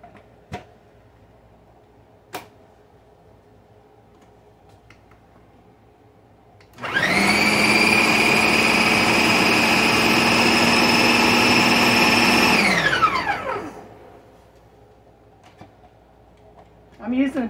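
Kitchen blender running on a puree setting, grinding fresh tomatoes for home canning: a loud, steady whirring motor that starts abruptly, holds for about six seconds, then winds down, with only faint background before and after.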